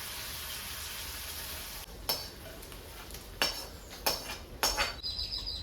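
Sautéed masala scraped from a pan into a goat leg kuzhambu, with a steady sizzling hiss and several sharp clinks of a metal spoon against the pot, close up.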